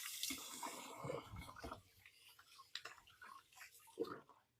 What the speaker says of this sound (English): Let me give my hands a good wash.